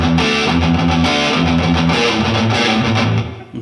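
Slow, palm-muted riff on a heavily distorted electric guitar, chugging rhythmic notes played loud and close, alone with no talk.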